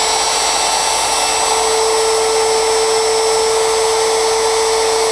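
A Bosch Colt GKF125CEN palm router spins at full speed with a loud, steady high-pitched whine and airy rush of noise, close up and constant throughout.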